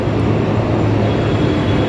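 A metro train passes overhead at Andheri station in Mumbai, a loud, unbroken rumbling roar that fills the whole stretch at close range.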